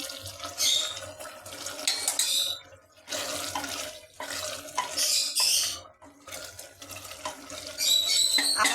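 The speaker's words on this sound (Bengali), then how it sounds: "এবার আমি এই আমার চিকেন চিকেন রান্না আছে চিকেনের একটু আমি ঝোল দেবো" Chicken broth poured into a pan of ghugni on a clay stove, a wet splashing pour in several bursts with brief pauses between them, close and fairly loud.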